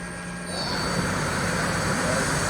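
Mori Seiki NL3000 CNC lathe spindle spinning up to 500 RPM, a steady broad machine whir and hum that swells after half a second and holds constant nearby.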